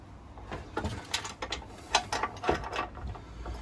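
A screw tightens down its thread into a nylon bush, giving a series of close, irregular ratcheting clicks and metallic creaks against a quiet background with no talking.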